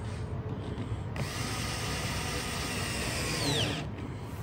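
Power tool driving a bolt into a table rail, a continuous near whirring run of several seconds with a brief dip early on, heard alone.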